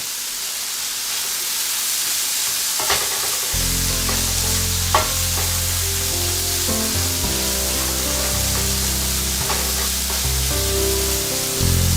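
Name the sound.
leftover vegetables sautéing in a pan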